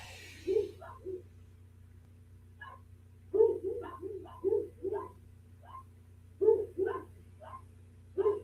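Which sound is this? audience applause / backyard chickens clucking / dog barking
dog barking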